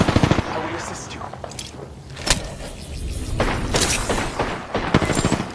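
Video game firefight with rapid bursts of close gunfire, sharp shots and thumps scattered throughout, while a voice talks over the shooting.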